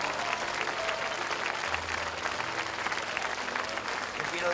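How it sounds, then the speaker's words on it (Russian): A church congregation in Donetsk, Ukraine, applauds for the Lord Jesus during a religious gathering: sustained, dense clapping from a large crowd in a reverberant hall, steady and moderately loud, with faint voices mixed in. "Дайте большие аплодисменты Господу Иисусу."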